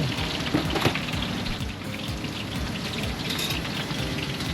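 Handmade pork cutlets (donkatsu) deep frying in hot oil at a traditional market stall, a steady dense sizzle and crackle throughout, fairly close.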